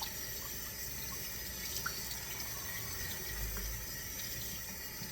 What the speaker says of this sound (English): Wash the cutting board after you finish with the meat before you continue cooking.